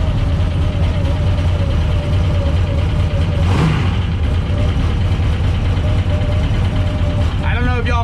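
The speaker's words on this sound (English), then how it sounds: "We're idling very well" The engine of a Lexus street outlaw drag car idles loud and steady with a deep, even rumble and a brief swell partway through, while someone talks over it.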